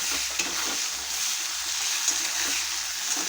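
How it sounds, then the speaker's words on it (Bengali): Thinly sliced pointed gourd and bitter gourd fry in oil with five-spice seeds, a steady loud bright sizzle running the whole time with faint stirring thumps beneath. "এইভাবে সরু সরু করে পটল আর উচ্ছেটাকে কেটে নিয়েছি, নিয়ে এখন আমি তেলের উপরে দিয়ে দিলাম।"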